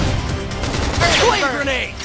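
A flame grenade attack explodes in Xenoblade Chronicles X combat: a single loud, close burst of crackling blast with a sweeping whoosh that tails off within about two seconds.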